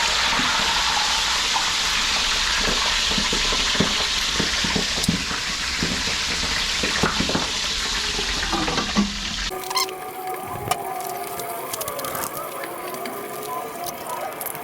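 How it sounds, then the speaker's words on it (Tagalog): Food fries in a pan for a Filipino feast, a dense steady sizzle with scattered scrapes and stirring clicks, then a switch to quieter kitchen sounds with light clatter and no sizzle. "Ayan, at nabaliktad na nga natin ang ating piniprito."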